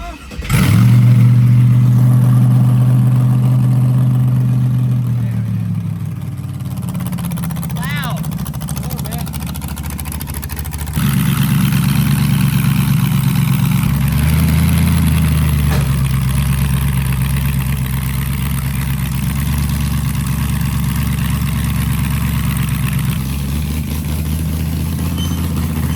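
An LS-swapped Ford Crown Victoria at a demolition-derby-style event revs hard, then settles into a rough, loud idle before revving again, close up, with people talking nearby.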